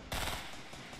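Rapid automatic gunfire from the Fortnite video game bursts in loud and sustained after a brief quiet start, a dense rattling spray that carries on through the rest of the moment.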